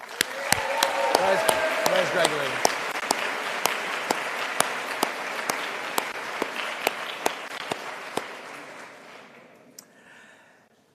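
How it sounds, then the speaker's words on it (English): A graduation ceremony audience bursts into loud, sustained applause that slowly tapers off near the end, with sharp individual claps standing out and a brief voice calling over the clapping. "a special round of applause for Mr. Stickley."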